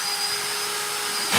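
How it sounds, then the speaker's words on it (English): Power drill driving a screw while a new bookshelf is assembled, a steady high motor whine held close and loud that shifts sharply at the very end as the screw goes tight. "That's just the drill saying, hey, it's tight."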